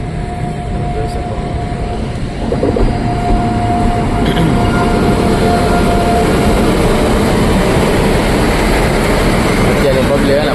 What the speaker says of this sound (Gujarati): અત્યારે જો ટ્રેન પણ અત્યારે આવી ગઈ. આપણે રેલવે સ્ટેશન પહોંચી ગયા